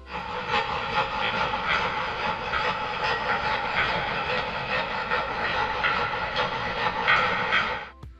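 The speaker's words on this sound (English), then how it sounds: "There's a grinding sound effect for some machinery." Heavy machinery grinding from the Poppy Playtime horror game, a continuous dense rumbling roar with rattling texture, loud and steady for several seconds before cutting off sharply.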